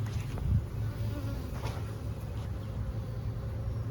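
Honeybees buzzing around a hive that has just thrown a swarm, a close, steady droning hum with no voices.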